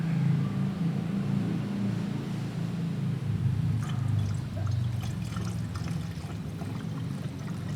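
Radiator coolant water pours into a car radiator in a steady, continuous low gurgling stream, close and moderately loud, with a few small splashes and drips near the end.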